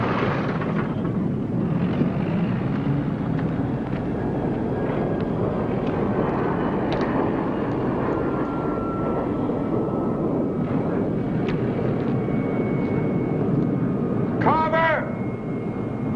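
A 1951-era propeller airplane in flight, a loud continuous engine drone filling the whole stretch, steady and close with some wind rush.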